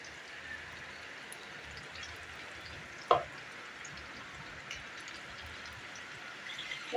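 Mustard and poppy seed paste fries gently in a pan over low heat, giving a soft, steady sizzle with a single brief sharp tick midway.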